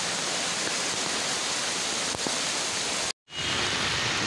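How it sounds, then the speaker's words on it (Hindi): A continuous wash of heavy rain falls over flooded Taxila streets, loud and uniform, with a momentary dropout near the end before the steady downpour resumes. "अब भी बारिश जारी है और काफ़ी तेज़ है"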